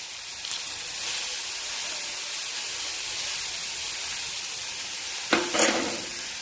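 Sliced onion with ginger, garlic, green chilli and tomato frying in hot oil for dal curry, a steady close sizzle and hiss with a sharp spatter burst near the end.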